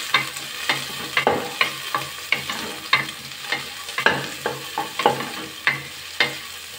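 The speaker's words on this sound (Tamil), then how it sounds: "பத்து சின்ன வெங்காயம் கட் பண்ணி வச்சுருக்கேன், சேர்த்துக்கிறேன். 1 பச்சை மிளகாய், கொஞ்சமாக கருவேப்பிலை சேர்க்குறேன். நல்லா மிக்ஸ் பண்ணிடலாம்." Ten sliced small onions, a green chilli and curry leaves being mixed in a pan for chicken soup, with a quick regular run of spatula scrapes and clacks over a low sizzle.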